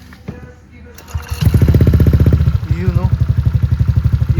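A motorcycle fitted with an aftermarket 4ROAD exhaust pipe starts and settles into a loud, throaty idle with a rapid, pulsing exhaust beat, close by, after a brief rustle.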